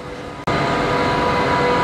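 A train at Halle (Saale) station, a loud steady rumble and hiss close by that starts abruptly after a brief moment of quiet and keeps going without a break.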